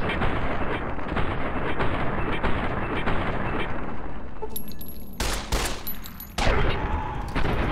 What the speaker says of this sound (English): Okay, stop shooting, reload very quickly.